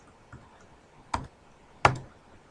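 Two sharp, isolated clicks sound on a computer keyboard, about three-quarters of a second apart, close and fairly quiet in an otherwise still room.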